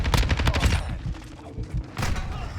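A Lachmann-556 (HK33) assault rifle fires in a video game: a rapid automatic burst of punchy shots, then a short pause and another burst, loud and close.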